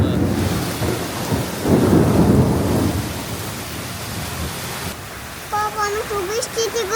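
Rain falls steadily on a rural farm, a broad hiss with a heavier rumbling swell early on, then quieter patter while a voice and other sounds come in near the end.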